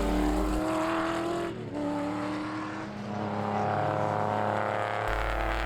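Race cars lapping the Hampton Downs circuit during a Superlap round, including an EF Honda Civic, a black Holden, a black Porsche 996 and a winged Nissan S15, their engines droning and revving steadily close by with overlapping tones and no pause throughout.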